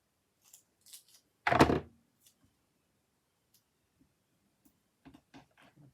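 One short, crisp cut through a piece of greyboard, a single loud snip followed by faint clicks and light handling noises in a quiet room.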